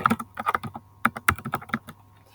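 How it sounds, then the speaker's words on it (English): Fingers tap out a search on a computer keyboard in a quick, uneven run of crisp clicks, close and clear, with a short pause midway before the keystrokes resume. "I'm going to type it here in the search bar."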